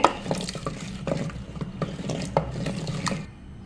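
Mashed guava leaf greens and garlic are stirred with added water, giving a quick rhythmic series of close wet squelches and scraping taps against the vessel that fade near the end.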